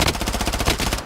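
Rapid automatic gunfire from a video game, a loud, close burst of evenly spaced shots running the whole moment before cutting off abruptly.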